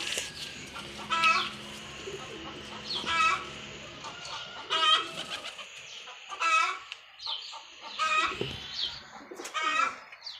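Repeated bursts of bird calls, pigeons cooing and fluttering in short clusters every second or two, fairly close, with light background noise between.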